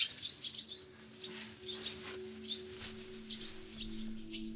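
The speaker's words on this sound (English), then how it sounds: "Not like you can always hear the birds chirping." Several short bursts of high bird chirps repeat at irregular intervals, fairly clear, over a low steady hum.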